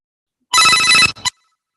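A phone rings once during an outgoing call, a short bright electronic tone that cuts off and is followed by a brief second chirp, loud and close against silence.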